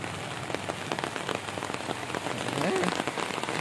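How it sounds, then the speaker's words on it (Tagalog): Rain falling outdoors on a vacant rural lot in Santa Maria, Bulacan, a dense steady patter of drops hitting surfaces nearby, with a faint voice briefly heard near the end. "Umuulan."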